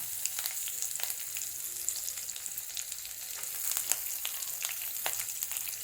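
Green chillies sizzling and crackling in hot oil in a Tamil home kitchen, with peanuts frying for amla rice; a steady close hiss with frequent sharp pops and spits throughout, no talk.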